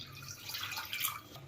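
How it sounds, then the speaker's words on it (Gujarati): Water is poured into dal fry cooking in a pot, a soft, continuous splashing and trickling that stays faint and close throughout, with no one talking. "થોડુંક આપણે પાણી નાખી દેવું."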